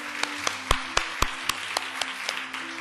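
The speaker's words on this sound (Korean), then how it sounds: "하나님께 우리 감사의 박수를 드리겠습니다." Sparse, distinct hand claps from a church congregation, sharp individual claps spaced out over a low sustained tone, thin and scattered rather than a full ovation.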